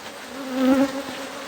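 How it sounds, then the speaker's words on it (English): Africanized bees swarm inside a beehive, making a dense, steady droning buzz that swells briefly near the middle before settling back, close and with no talking. "But this is Africanized bees, you know."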